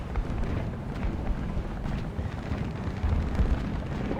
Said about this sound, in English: there's artillery on top of us